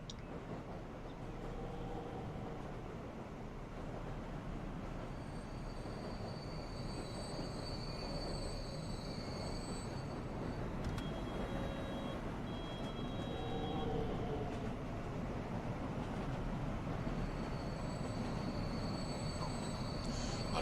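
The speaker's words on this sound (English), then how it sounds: "we are just waiting now for our train to Uxbridge to come in" A Metropolitan Line train on the Harrow to Uxbridge route in Transport Fever 2 arrives at a station, a steady low rumble with high squealing tones and faint whines coming and going over more than twenty seconds.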